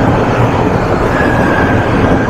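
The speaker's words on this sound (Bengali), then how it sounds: "এই যে আমাদের ট্রেন এবার এসে গেছে।" A metro train pulls into a station in Kuala Lumpur, a loud continuous rumble with a thin rising whine from the train's motors emerging midway, no speech over it.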